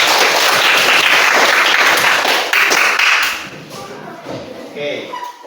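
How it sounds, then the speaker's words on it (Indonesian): Ninth-grade students in a classroom clap together in a loud, dense burst of applause that fades after about three seconds, followed by quieter scattered sounds and voices. "Tepuk tangan untuk kita semua."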